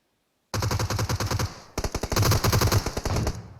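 Rapid automatic fire from a 100-round machine gun in PUBG Mobile rattles in loud, close bursts. A short pause breaks the fire before it resumes in a denser, continuous stream.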